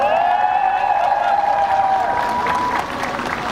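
Crowd applause at a local election campaign rally, with dense, steady clapping and cheering that stays loud throughout, a sustained ringing tone running above it.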